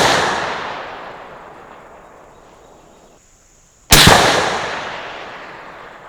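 Two sharp rifle reports from a 6.5 Creedmoor custom Savage 110 at an outdoor range, the first decaying at the start and a second loud crack a few seconds later, each followed by a long fading echo.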